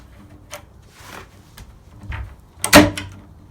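A doorknob assembly is pushed through the bore of a door, with soft metallic scrapes and taps building to a sharp knock and click near the end.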